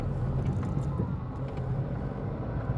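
Car pulling along in first gear on the road to the Matheran hill station, a steady, moderately loud engine drone with road rumble, continuous and fairly close, with no clear voices.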